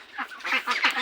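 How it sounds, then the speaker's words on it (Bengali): Young ducks on a farm quack in a short, close cluster of nasal calls, several overlapping honks in quick succession. "বন্ধুরা দেখেন, এই হচ্ছে আমাদের প্রথম হাঁসগুলো"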